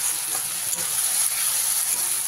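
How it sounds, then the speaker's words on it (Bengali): Ginger, garlic and green chillies frying with onion in a pan, a loud, steady, bright sizzle with a constant high hiss and occasional faint stirring sounds, close up and without talk. "এবারে আদা রসুন আর কাঁচা লঙ্কাটাকে খুব ভালো করে ভেজে নিতে হবে পেঁয়াজের সঙ্গে।"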